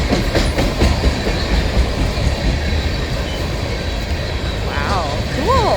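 A Canadian Pacific freight train of tank cars rumbles past close by in Winona, Minnesota in winter, a loud steady roar with wheel clatter, and voices can be heard near the end.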